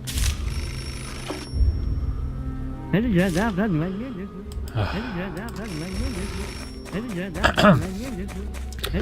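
A telephone rings in the video game Beholder, a warbling electronic trill in several repeated bursts, set against background sounds and a voice.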